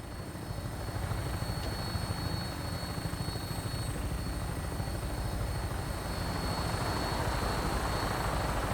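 A Vertibird aircraft in Fallout 4 flies in on final approach, giving a steady, loud, continuous rotor and engine roar that holds throughout with no speech over it.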